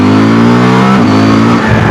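A CFMOTO 1000MT-X motorcycle accelerates hard, its engine note loud and close, climbing steadily in pitch before a brief drop at a gear change, with no talk.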